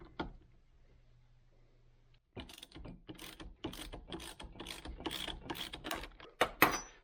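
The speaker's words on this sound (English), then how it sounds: "Using our same 13/16 or 21 millimeter, there's a lock nut. We need to break this free." A wrench breaks loose the steering stem lock nut on a 1998 Suzuki RM125 motorcycle, giving a run of close, sharp metallic ratcheting clicks and clanks after a quiet start, loud and rhythmic without talk.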